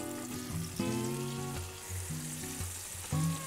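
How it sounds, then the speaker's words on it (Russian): Flour-dredged fish laid skin-side down in hot oil in a frying pan, giving a steady close sizzle and crackle that swells briefly as pieces hit the pan, with no voices over it. "Обваливаю рыбу в муке и на сковородку кожей вниз."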